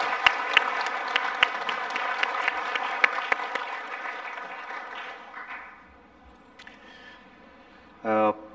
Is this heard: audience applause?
yes